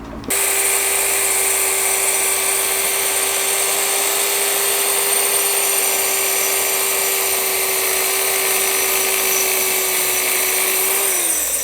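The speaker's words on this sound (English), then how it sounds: "I've gone over it really lightly with a finger sander" A finger sander whines continuously on an engraved piece, starting abruptly and holding a steady high-pitched buzzing drone for over eleven seconds, loud and close with no talk.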